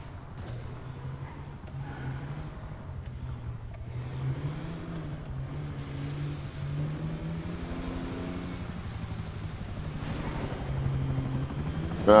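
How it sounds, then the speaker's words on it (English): Helicopters in GTA V Online, a steady low rotor and engine drone holding throughout, moderately loud with a slight rise toward the end, no speech. "Up there go the helicopters."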